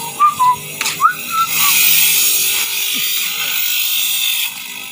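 A bamboo fossil gemstone is ground and polished on a machine, giving a steady, gritty whirring hiss that follows a few short whistle-like tones.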